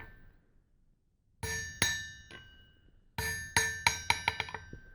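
Two bursts of ringing metallic strikes from a hammer on an old steel anvil, a few blows, pause, then a quicker run of bright, sustained clangs that ring out between hits.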